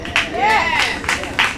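Audience cheering and clapping for music teacher Wendy Simon at a gratitude concert meet-and-greet, bursts of claps and whoops from a crowd rising and falling under a voice.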